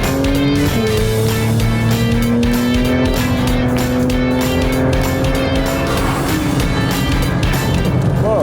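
Porsche 911 GT3 RS lapping Monza on a greasy track, a loud in-car engine roar that holds and rises in pitch through the gears with steady road and tyre noise underneath, continuous throughout.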